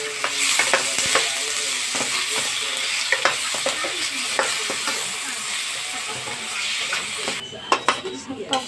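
Misua noodles and sponge gourd (patola) soup are stirred in a pot, with a constant bubbling hiss and repeated light utensil knocks and scrapes. A clearer clatter of the pot comes near the end.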